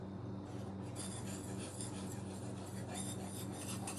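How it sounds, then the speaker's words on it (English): Knife being sharpened by hand on a fixed-angle sharpening system, a steady close scraping and rasping of steel against abrasive with faint repeated stroke pulses, moderately quiet and continuous. "sharpening your knife by hand"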